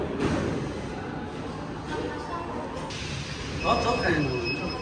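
Tashkent metro train rumbling steadily through the underground, a dense continuous roar with faint high wheel squeals toward the end.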